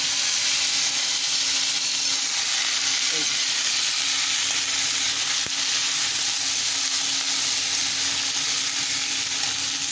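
Chopped watermelon rind frying in a pan for a shrimp fritter dish makes a loud, steady, unbroken sizzle that fills the whole stretch, with no voices over it.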